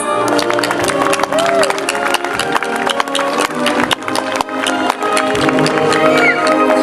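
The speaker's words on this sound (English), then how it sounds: "Let's give them all a round of applause." An outdoor crowd at a municipal band concert gives loud, continuous applause, with dense clapping and some cheering filling the scene close up.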